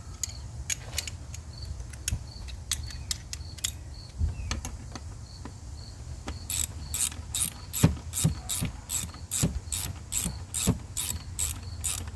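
A 12mm ratchet tightens the engine pitch stop bolts on a 2018 Subaru WRX, with rapid clicking pawl bursts, sparse at first, then a steady rhythmic series of loud clicks close by.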